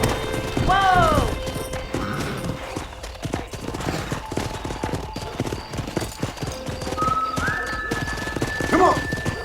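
In Red Dead Redemption, a pack of wild horses near a ranch clip-clops in a steady galloping rhythm, with a couple of whinnies and neighs rising above it and a voice talking briefly over the hoofbeats.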